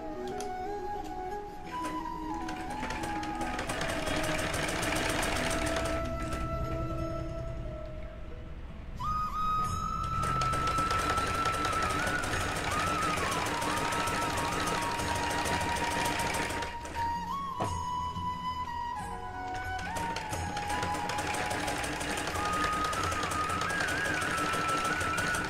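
A sewing machine stitches a small Laddu Gopal night dress, a close, rapid mechanical chatter running in three long bursts separated by brief pauses.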